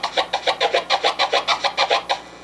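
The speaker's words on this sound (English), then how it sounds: "this kind of chirp sounds a lot cleaner" A DJ scratches a clean chirp sound on a turntable, repeated in a steady rhythm of about a dozen evenly spaced, bright, clipped bursts, close and loud with no voices.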